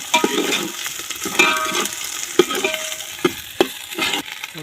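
Ground ginger hits a hot pan while frying for a village-style biryani. Busy sizzling mixes with scraping stirs and several sharp metallic clinks of utensil against pan, close up and without talk.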